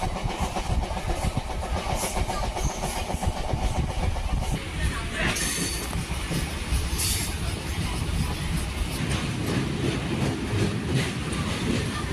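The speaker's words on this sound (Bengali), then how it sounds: "আমাদের কিন্তু বাগনান থেকে ট্রেন ছেড়ে দিয়েছে" The Jagannath Express rolls on rails just after leaving Bagnan, heard from inside the coach as a loud, continuous rumble with rhythmic wheel clatter and occasional brief squeals.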